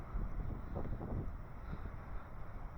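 Gusty wind buffets the microphone at a breezy coastal overnight parking spot in Ballantrae, a steady low rumbling roar throughout with no voices.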